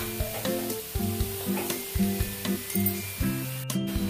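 Eggplant fries with onions and turmeric in a pan, a close sizzle overlaid by a regular, roughly twice-per-second scraping of a utensil against the metal as it is mixed; no talk.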